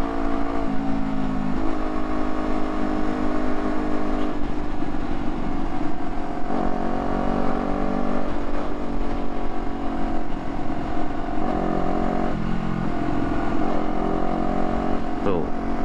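Empty dump trucks race past one after another on a haul road, a loud continuous engine roar rising and falling with shifting pitch, heard from close by alongside talk.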